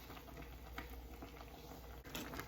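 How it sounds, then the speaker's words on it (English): A pot of water at a rolling boil on the stove, about to take kielbasa sausage, gives a steady close bubbling patter with no talk over it. "Finally got this boiling, so now I'm gonna throw in all of the kielbasa sausage"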